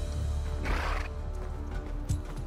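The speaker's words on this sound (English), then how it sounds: "The horses, I think, are coming" Horses in the video game Mount & Blade 2: Bannerlord, a loud whinny over a rumbling battlefield, with hooves clip-clopping and a second brief neigh near the end.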